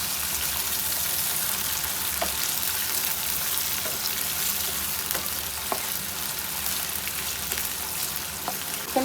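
Chicken frying for a karahi, a steady, close sizzle with faint stirring clicks running through the whole stretch, no talking.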